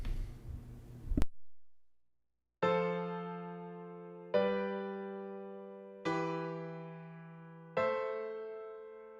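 Four sustained keyboard chords, each struck and left to ring and fade before the next, after a brief noisy burst at the start.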